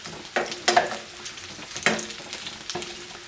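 Chicken katsu fries in a pan, with a soft sizzle and a few sharp crackles and pops spaced irregularly over a few seconds, no talking.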